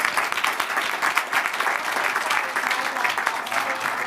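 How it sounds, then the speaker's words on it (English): An audience at a fireside chat event gives a sustained round of applause, a dense, even wash of many hands clapping throughout. "Can you all give him a nice round of applause?"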